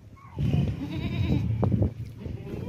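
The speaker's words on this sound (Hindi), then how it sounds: "ये बकरी चेक करें भी, बहुत ही ज़बरदस्त गबन बकरी है" A goat bleats several times in close succession, loud and near, with a low wavering voice among other nearby livestock noise.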